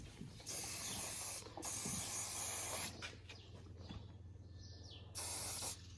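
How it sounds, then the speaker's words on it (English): Shine spray is misted onto a horse's dusty coat in several hissing bursts of about a second each with short pauses between them, close up and alone with no talking. "spray it with shine spray"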